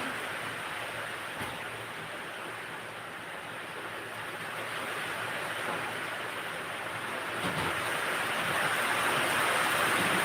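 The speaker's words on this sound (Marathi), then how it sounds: "पाऊस पाऊस जोरात आला आता" Heavy rain falls in a dense, steady outdoor wash that swells slightly louder toward the end, with no talking.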